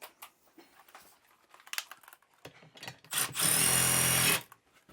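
A power drill with a 3/8 socket runs a bolt in while setting up a Furrion Chill Cube air conditioner on a 2018 Jayco Jay Feather RV. Light handling clatter comes first, then a loud, steady, close whir lasting about a second.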